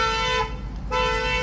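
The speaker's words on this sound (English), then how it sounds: "somebody's car alarm is going off up here at the gas station" A car alarm sounds at a gas station, a loud steady electronic horn tone that cuts out briefly and then resumes, heard close with no talking.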